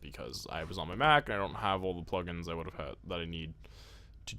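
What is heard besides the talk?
No everyday noise stands out behind the speech.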